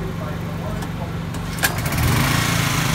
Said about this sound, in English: here the generator comes on